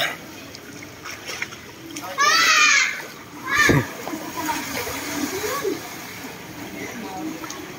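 Children's voices ring out over splashing as people wade through deep floodwater in Cavite, with one loud burst of splashing standing out amid steady water noise and chatter.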